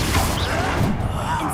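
A Confringo blasting spell cast in the Hogwarts Legacy video game, a short crashing impact with a whooshing edge set against steady background game ambience.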